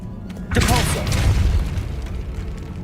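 The Depulso force-push spell from Hogwarts Legacy goes off as a sudden deep boom with a short burst of rumble that fades out, while a short voice cry rides over the blast.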